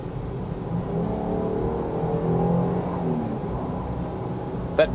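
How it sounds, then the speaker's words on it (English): Jeep Grand Cherokee Overland with a Pentastar V6 engine, heard from inside as a smooth, steady low hum that swells slightly midway, continuous and moderately quiet with no talking. "That Pentastar really does sound beautiful. There's nothing quite like that smooth, silky sound of a really smooth V6."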